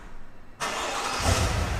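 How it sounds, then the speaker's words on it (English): A 2021 Cadillac Escalade started remotely by key fob: after a quiet moment the engine cranks and catches abruptly, then settles into a steady close idle with a slight rise in rumble, no speech over it. "What you can do to start up the car is press this on the key"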